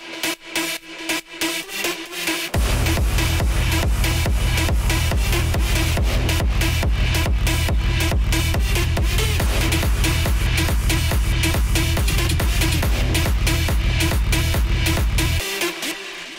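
Layered Serum synth lead presets, a pluck with two stacked leads, drive a pounding rave drop with a heavy pulsing kick and bass, loud and continuous after a short thinner intro, with no voices.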